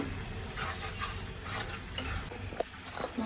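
Turmeric, chili, salt and coriander masala fry in a pan while being stirred, giving a continuous close sizzle with scraping spatula strokes and occasional light clinks.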